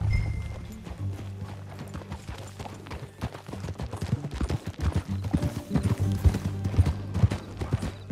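In Red Dead Redemption 2, hooves clip-clop rhythmically as a horse is ridden along, growing louder over a low musical drone, with a faint whinny and no speech.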